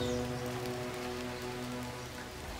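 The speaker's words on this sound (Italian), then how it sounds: "una pioggia torrenziale, ma che fascino le vigne sotto l'acqua" Torrential rain pours steadily over vineyards in Sardinia, a dense, continuous hiss of drops striking leaves and ground that stays loud and unbroken throughout, with no voices.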